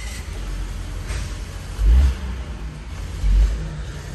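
A Volvo car engine turns over and idles, then is revved twice in short bursts, each rev swelling loud and close before falling back to a steady hum.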